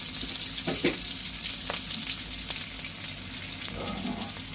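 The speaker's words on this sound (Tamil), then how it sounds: "வெங்காயம் பச்சை மிளகாய் எல்லாம் வதங்கிட்டு" Onions and green chillies with curry leaves sautéing in a pan, a continuous close sizzle with several quick scraping stirs early on and a soft rustle of moving food near the end, no voices.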